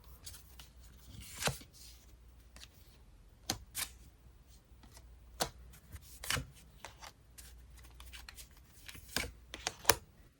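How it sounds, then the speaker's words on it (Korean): Oracle advice cards shuffled and drawn during a card reading: quiet, scattered riffles and sharp card snaps in short bursts, close by, with no talking. "그럼 이제 조언 카드 자세히 뽑아볼 건데요"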